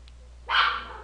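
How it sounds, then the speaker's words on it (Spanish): A small black female Miniature Pinscher, only about 20 to 30 centimetres tall, gives one sharp, fairly close bark that rings out loud and alone after a quiet start. "Es un perro que mide 30, 20 centímetros, es sumamente chiquito pero ladra como que fuera un Doberman."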